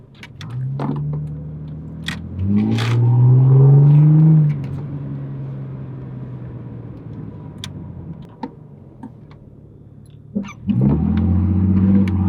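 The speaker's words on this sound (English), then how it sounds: "This thing's got a catback exhaust in it too, so it sounds pretty good." A car with a catback exhaust, a $1000 drift project, revs up loudly in a sustained climb and falls back to a rumbling idle, then revs again near the end; no talk.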